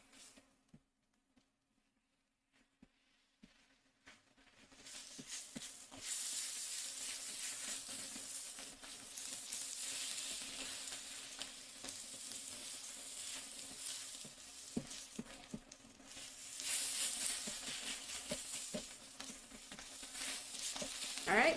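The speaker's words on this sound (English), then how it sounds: "I'll just stir it for about a minute" A mixture for mini quiches with spinach and smoked salmon stirred as it sizzles in a pan, near and steady after a quiet start, with soft scrapes and taps of the spoon over continuous frying hiss.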